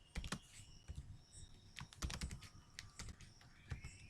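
Close, quiet clatter of a computer keyboard as code is typed, quick irregular bursts of key clicks and taps with brief pauses between words, no voice.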